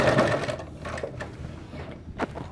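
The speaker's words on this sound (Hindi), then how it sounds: "ऐसे पकड़ने के बाद आप इसे सिलाई लगाएंगे पहले लब पे" Sewing machine stitching the fabric of women's narrow pants, a steady close whirring run of needle strokes that slows and pauses, then resumes briefly with a short burst near the end.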